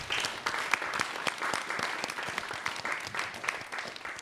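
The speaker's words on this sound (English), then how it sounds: "Give them another round of applause, please." Sustained audience applause following an evening panel discussion, a dense, steady patter of many clapping hands lasting several seconds, fairly distant, with no speech over it.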